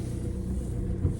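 A car reverses slowly on a driveway, its engine giving a low steady rumble at close range, continuous and unbroken, with no voices.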